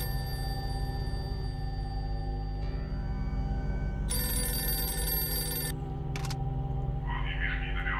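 In the indie platformer White Shadows, a telephone rings with a steady electronic bell over a constant low droning hum, the ringing growing brighter partway through and followed by a short burst of higher chimes.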